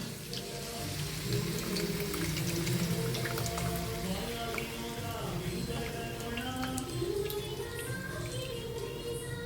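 Mixed tamarind water is poured into rice cooking in a pan, a steady, even splashing and sizzling wash that continues without a break.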